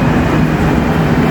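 A metro train arrives with a loud, close, continuous low rumble and rolling roar that fills the whole short moment, with no talk over it.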